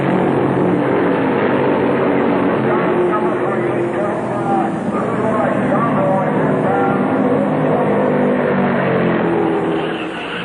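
Dense, steady roar of 1966 NASCAR Grand National stock cars racing, including a Dodge Charger and a Ford, heard as continuous engine noise with a narrator talking over it throughout.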